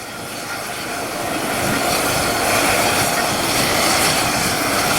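Medical helicopter landing in a parking lot, rotor wash kicking up wind; a loud, continuous broadband roar and rotor rumble, steady and close, swelling slightly as it settles, with no talk.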